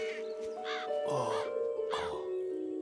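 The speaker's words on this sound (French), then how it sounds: "Des corbeaux. Un mauvais présage." Crows in an animated show caw several times in harsh, drawn-out calls, with a steady musical tone running beneath them.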